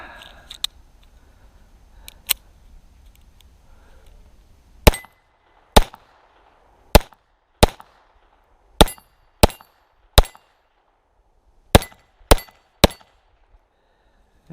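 Shots from a Walther P-22 pistol ring out one at a time, about a dozen sharp cracks spaced roughly a second apart, loud and close, with a few faint clicks before the firing starts.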